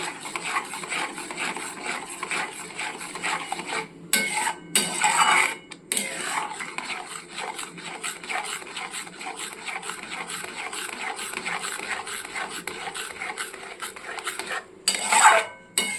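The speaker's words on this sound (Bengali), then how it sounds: "দিয়ে আবারও ভালো করে নাড়তে থাকবো" A spoon scraping and stirring thick palm-fruit kheer with powdered milk in a pot: steady rubbing and scraping strokes against the metal, with brief louder clanks, close, without speech.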